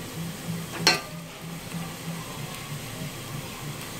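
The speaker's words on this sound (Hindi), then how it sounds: "प्याज ऐसे हमने इसमें डाल दिया है ऑयल के अंदर। अब इसको थोड़ा लाइट ब्राउन करेंगे।" Sliced onion frying in oil in a pan, cooking toward light brown. A soft, steady sizzle runs throughout, with one brief clink near the start.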